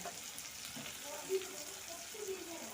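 Onions sautéing with chilli powder in a pan, a soft, faint sizzle with light stirring scrapes and a small clink, quiet and close.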